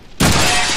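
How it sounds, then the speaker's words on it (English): A window shot out in the Deadpool video game bursts into loud shattering glass after a brief quiet moment, the crash ringing on and slowly fading without any speech. "I'll shoot out the window!"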